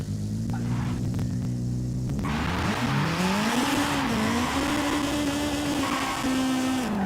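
A tuned 300-horsepower Acura Integra Type R in a racing game revs hard in first gear, the engine note climbing sharply and then holding a loud, buzzing high-rev drone with the tires spinning.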